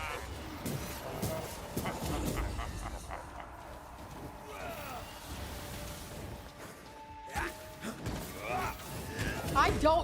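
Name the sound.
dog whimpering in the video game Banishers: Ghosts of New Eden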